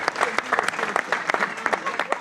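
A small audience at a sports and gender-violence workshop in Africa bursts into brisk, uneven clapping, with a voice talking over the applause.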